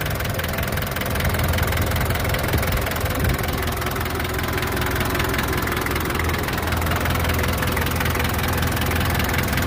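A 1989 Daihatsu Taft GT 4x4 engine idles steadily and close by, a continuous low rumble with a faint knocking texture and vibration, no voices.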